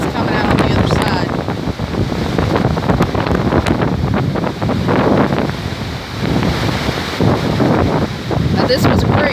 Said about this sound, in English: Really breezy through here. I don't know if you can hear it.